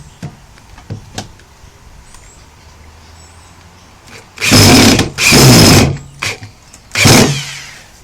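A power drill drives screws into a fire staff clamped in a vise, three loud close whirring bursts of about a second each, preceded by a few light knocks and handling sounds.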